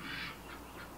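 Ducks give a brief burst of nasal quacking and squawks, fairly close and clear over faint background noise, lasting about a second.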